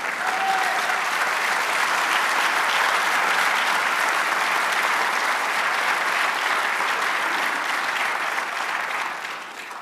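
Church congregation applauding during a sermon, a dense, steady wash of many hands clapping that holds for several seconds before tapering off slightly at the end.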